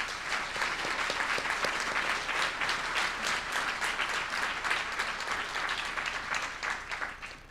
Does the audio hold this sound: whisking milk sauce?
no